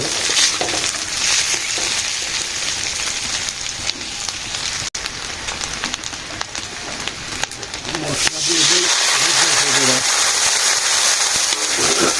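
Boiled eggs fry in a pan with a continuous crackling sizzle, steady and fairly loud throughout, which grows brighter and louder after a brief break near the middle. A voice is faintly present beneath it.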